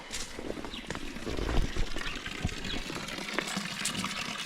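Water gushes and splashes steadily beside a fish pond outdoors, a continuous noisy flow with small surges, moderately close and without talk.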